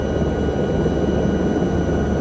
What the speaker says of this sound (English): we can have some fun flying this helicopter